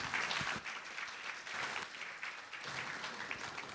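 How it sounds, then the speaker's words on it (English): An education conference audience applauds its session speakers in a large hall: moderately loud, continuous clapping that swells and dips in waves. "Please have a big round of applause for all our speakers."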